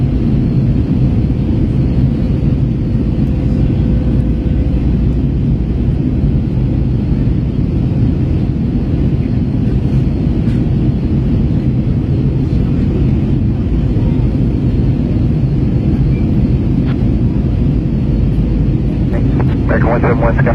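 An American Airlines Airbus A321T airliner lands at Los Angeles, heard from the cabin as a loud, continuous low roar of engines and airflow, with a faint voice over it.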